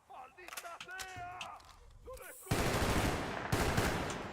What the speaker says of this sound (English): Yeah, I love this gun. Look how little recoil it's got.